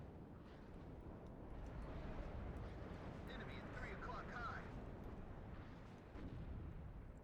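Artillery fire in the war strategy game WARNO rumbles as a steady, dense roar of distant shelling, with faint crackles on top.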